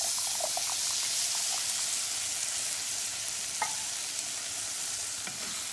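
Tomato sauce with garlic sizzles and bubbles in a pan for Mexican rice, a faint, steady hiss with a few soft stirring clicks and no voices.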